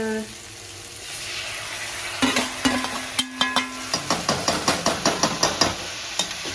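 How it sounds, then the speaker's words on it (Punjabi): Onions and tomatoes frying for paneer bhurji in a home kitchen pan, a constant sizzle broken by a quick, regular run of spatula scrapes and stirring strokes up close. "ਹੁਣ ਪਿਆਜ਼ ਸਾਡੇ ਕੋਲ ਚੁੱਕੇ ਆ ਹੁਣ ਅਸੀਂ ਪਾਵਾਂਗੇ ਵਿੱਚ ਟਮਾਟਰ ਲਾਲ ਲਾਲ ਟਮਾਟਰ"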